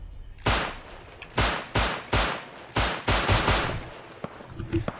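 Pistol shots ring out in the survival video game Rust, about seven sharp reports in an uneven series roughly half a second apart, loud and close, each trailing into a brief decay against a low background.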